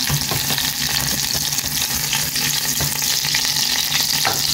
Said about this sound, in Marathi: आनी दिता बरो मिक्स.